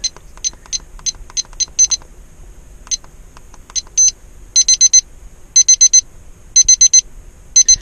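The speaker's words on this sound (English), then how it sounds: "that thing's going to start beeping at me" A digital meat thermometer's temperature alarm beeps loudly and up close in quick clusters of shrill electronic tones. The gaps between bursts shorten until the beeping turns almost continuous, with no voices.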